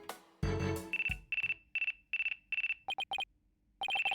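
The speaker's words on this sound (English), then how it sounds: "Looks like I have a phone call." Phone ringtone in the video game Ace Attorney: Dual Destinies, a series of short electronic ringing bursts in a steady rhythm, followed by faster chirping double trills, clear and close after some brief game sounds.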